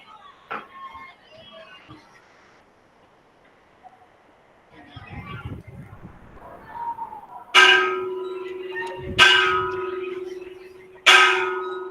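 Three sharp metallic bell strikes ring out loudly near the end, each with a sustained humming tone, after quieter knocks and faint rustling.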